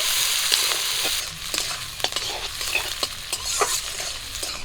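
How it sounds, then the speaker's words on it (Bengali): Chopped onion and green chili frying in fish-frying oil with five-spice seeds, a close sizzle broken by repeated scraping strokes of a spatula stirring the pan. "সব কিছু খুব ভালো করে ভাজা ভাজা করে নেব"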